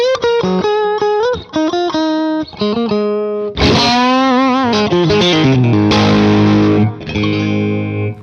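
An electric guitar through a Sleep Champion Horse Cult overdrive pedal plays clean picked notes, then switches to loud overdriven chords with thick, sustained distortion that rings out.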